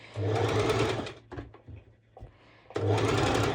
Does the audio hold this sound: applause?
no